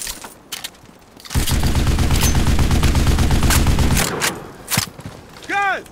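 Dense automatic gunfire from the Enlisted video game during a D-Day zombie mod battle, a loud sustained burst of rapid shots followed by a few scattered single bangs and game effects.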